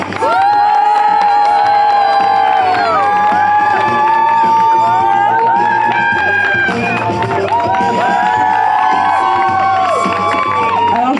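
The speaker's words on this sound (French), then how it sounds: "Alors on va applaudir comme il se doit" A festival crowd at a cosplay contest results ceremony cheers loudly with whoops, children's shouts and scattered clapping, a dense sustained roar that never lets up.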